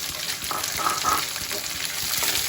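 Capsicum sautés in a hot pan with other vegetables, giving a continuous hissing sizzle, steady and close, with faint clinks of a utensil now and then.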